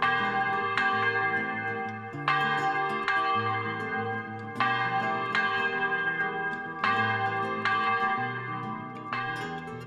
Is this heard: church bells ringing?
yes